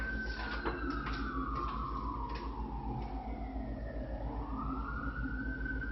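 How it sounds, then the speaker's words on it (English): An emergency siren wails for the whole stretch, rising and falling slowly over a steady low rumble of traffic, heard from a moderate distance with no talking. "Remember, hear that siren."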